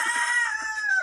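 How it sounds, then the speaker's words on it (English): A chicken at a local pig farm gives a short, clear call of about a second, close and alone with no talk. "A chicken eating from the house of a pig."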